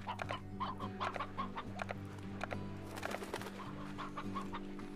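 Chickens in the video game Slime Rancher cluck in quick repeated bursts over a steady low in-game hum, moderately close and fairly quiet, with no talk.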